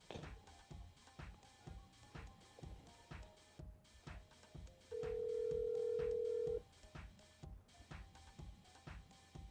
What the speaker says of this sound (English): Uh-oh, I hear ringing.